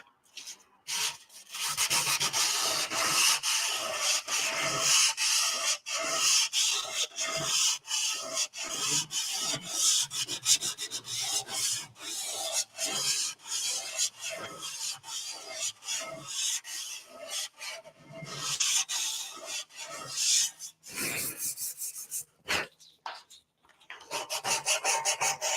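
Continuous rasping sanding of wood on a computer desk with a cracked surface, close and steady with rhythmic back-and-forth strokes and brief pauses throughout.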